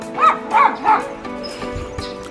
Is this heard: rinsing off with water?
no